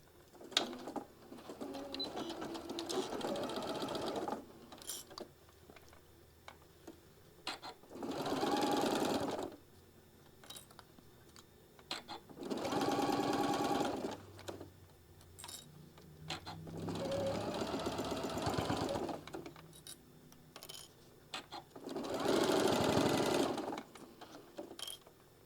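Domestic sewing machine stitching down a mini puff pouch, running in four steady bursts of rapid mechanical whirring separated by quiet pauses.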